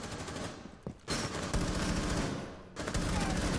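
Rapid bursts of automatic gunfire from a shooter video game, loud and sustained across most of the moment with brief gaps between volleys.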